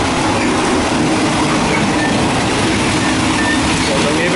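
Thai second class train on the northern route, heard from the coupling between two carriages: a loud, continuous rumbling roar of wheels on track with steady rattling and faint squeals.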